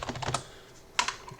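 Quick bursts of keystrokes on a computer keyboard, a few clustered taps, a brief pause, then another short run of clicks, close and fairly quiet.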